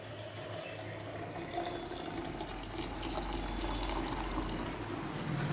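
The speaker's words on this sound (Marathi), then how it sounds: "तर 300 ml आपल्याला पाणी घ्यायचं आहे शेकरमध्ये." Water runs steadily into a measuring shaker for an Herbalife shake, a continuous splashing fill that stays even and slowly grows a little louder.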